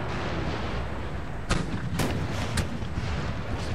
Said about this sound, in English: Cannons are firing right up the middle.